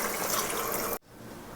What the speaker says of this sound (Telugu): చికెన్ ఒక 3-4 మినిట్స్ ఫ్రై చేశాక 1 లీటర్ ఆఫ్ వాటర్ పోద్దాం.